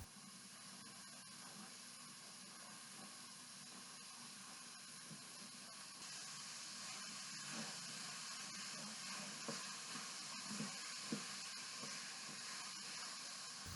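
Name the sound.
hamburger meat browning and sizzling in a skillet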